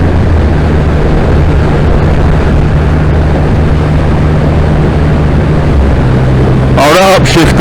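Triumph Rocket 3R motorcycle engine under way on the road, a loud steady drone with heavy wind rush, and its pitch drops briefly near the end as it upshifts; a voice speaks over it at the close.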